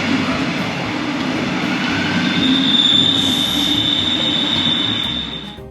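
A train on the Israeli line to Haifa rolls in loudly and close, its heavy rumble joined by a sustained high wheel squeal, then fades slightly at the end, with no talking.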